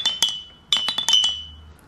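Beer bottles used as a xylophone, struck to give bright glassy clinks with a ringing, sustained pitch: a couple of separate hits, then a quick run of several strikes, each close and clear with no talking.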